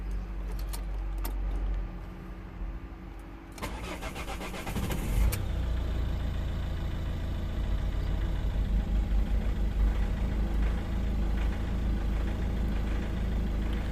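A 2010 Ford Galaxy 2.0 TDCi with a cutting-out fault: keys jangle, then the diesel engine cranks and catches around four seconds in and settles into a steady, close idle with no talking.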